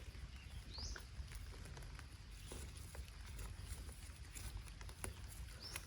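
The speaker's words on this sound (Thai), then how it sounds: "ฝนก็ยังตกอยู่นะพ่อแม่พี่น้องตอนนี้" Rain keeps falling outdoors while earthstar (puffball) mushrooms are gathered from the soil. It makes a faint, steady patter with scattered light ticks and no talking.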